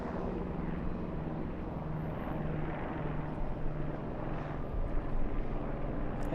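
A JetBlue airliner arriving from JFK passes near LAX toward Terminal 1, a steady broad engine roar at moderate distance that swells slightly toward the end, with no talk over it.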